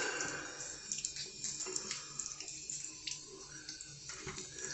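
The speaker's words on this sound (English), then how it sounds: "wash it off, get any of that excess bug stuff off, or dirt, grime, dust. Give it a decent rinse." A small Korean squash is rinsed under a running tap, water streaming and splashing unevenly at close range with a few soft drips and handling sounds.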